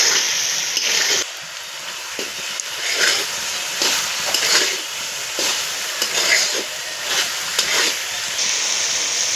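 Potatoes frying in a pan for a rohu fish and okra curry, with a steady loud sizzle and regular scraping stirs running through the whole stretch, no voices.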